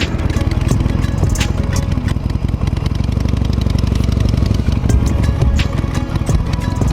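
A Harley-Davidson Nightster motorcycle rides on a winter road, its engine a loud, steady, close rumble with a rapid pulsing beat throughout, and no voices heard.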